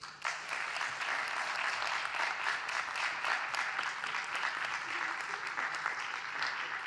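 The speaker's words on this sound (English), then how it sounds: "please give them a beautiful round of applause and welcome to the stage" Sustained audience applause fills a venue as performers are welcomed onto the stage, a dense, steady wash of many hands clapping throughout with no pauses.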